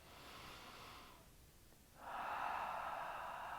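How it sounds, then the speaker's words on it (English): A deep, full inhaled breath taken during a yoga practice, airy and close, pausing briefly before a louder, sustained draw of air. "Big full breath in."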